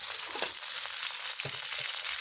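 A bay leaf, a dried red chilli and whole garam masala spices fry in hot oil in a kadai, giving a continuous close sizzle with soft scraping and small pops throughout.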